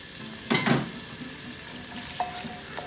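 A loud burst of sizzling as sliced red onions hit hot oil, then a steady crackling fry with a couple of light utensil clinks.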